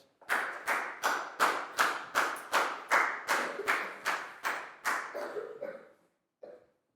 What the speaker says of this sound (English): High five and a big round of applause for Down, please, guys.